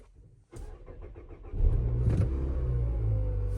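A Mazda CX-5 engine cranks with a short whirring starter burst, then catches and settles into a steady low idle rumble close by, after a brief quiet moment at the start.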